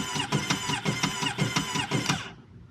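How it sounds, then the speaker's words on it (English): The blown-up motor of a powersports vehicle in a Florida repair shop cranks in an uneven, labored rhythm of about five squealing, rattling pulses, close and loud, then stops abruptly. "That is the sound of a blown up motor, for sure."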